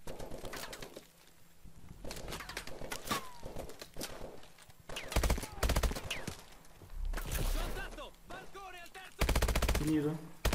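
Bursts of rapid Call of Duty: Advanced Warfare gunfire crackle in uneven volleys, with quieter gaps of footsteps and ambient noise between the louder shooting.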